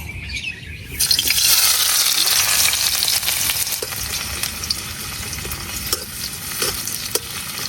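Banana flower koftas frying in hot oil, a dense steady sizzle that jumps louder as they hit the pan and runs on with faint scraping stirs and light bird chirps in the background.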